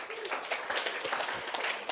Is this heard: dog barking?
no